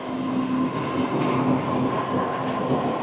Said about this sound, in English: I think the train is coming.